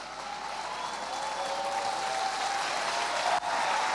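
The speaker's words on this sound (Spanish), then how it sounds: "aplaudan allá, ya" An audience at a Christian conference claps together in a broad, sustained roar of applause, loud and uniform, with a brief dip near the end.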